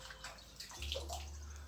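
Fresh water flushing through a paint sprayer's parts, a steady rushing gush that swells louder partway through and keeps running to the end, close and with no voices.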